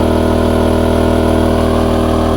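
A BLITZ petrol generator runs loudly under a heavy electrical load, a close, steady, buzzing engine drone with no pauses.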